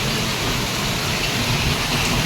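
Heavy monsoon rain pours down steadily in Surat, a dense, loud, unbroken hiss of water falling on surfaces in a flooded lane.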